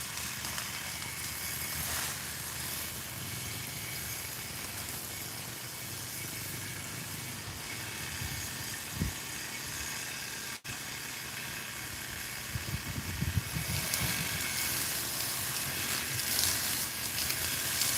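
Lawn mower cutting grass outdoors near a pond in mountain air, a steady distant motor drone with hiss running throughout, loudening slightly near the end.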